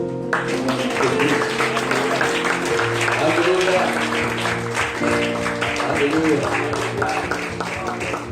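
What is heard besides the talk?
congregation applause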